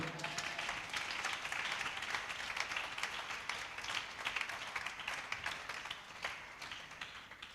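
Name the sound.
church congregation applauding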